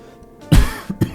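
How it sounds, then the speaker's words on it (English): A person coughs in a close, dry burst, followed by two shorter coughs a moment later, with no speech. "Sorry, I keep coughing."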